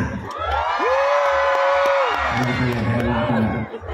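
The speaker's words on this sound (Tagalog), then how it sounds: "magpalakpakan po na may kasama sigawan" A festival crowd at the Hil-o Hil-o Festival in Maayon, Capiz cheers and shouts loudly, with whoops and raised voices rising together; scattered clapping may be mixed into the steady roar.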